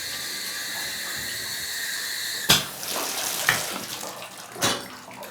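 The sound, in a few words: shower running into a bathtub with the drain stopper in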